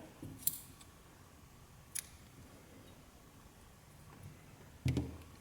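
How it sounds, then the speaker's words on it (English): Scissors snip through crochet yarn with a few sharp, isolated cuts spaced apart, close and crisp against a quiet background, with no talking. "Now go ahead and cut your yarn."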